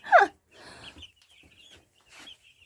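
A close rooster chick gives a sharp squawk, then a few softer clucks and chirps with quiet gaps between them, as it is being weighed.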